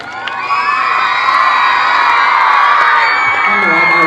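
A school audience of children cheers and shouts loudly at a residential school performance event, a sustained wall of high voices whooping close by.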